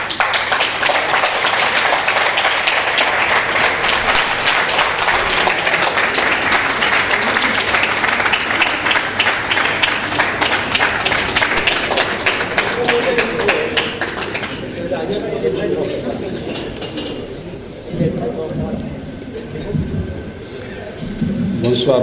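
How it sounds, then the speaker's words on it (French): A graduation diploma ceremony crowd applauds loudly and steadily for about fifteen seconds, then the clapping thins and scatters as the hall quiets, with murmuring in the background. "je vais dire aux confrères d'arrêter d'applaudir comme ça"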